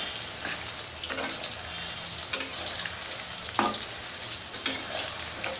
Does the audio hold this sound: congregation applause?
no